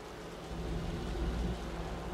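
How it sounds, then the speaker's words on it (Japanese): Heavy rain and low rumbling thunder in the video game Wuthering Waves, a steady broadband downpour with a soft swell of thunder in the middle, heard quietly without speech. "雨が強くなってきた。"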